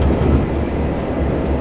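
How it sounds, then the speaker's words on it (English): Train Simulator 2018 train passing on the adjacent line between Brighton and Cambridge, a steady low rumbling roar held throughout the short stretch with no break. "Train coming the other way, which should be over here."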